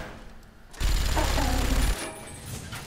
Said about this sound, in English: Get our minigun.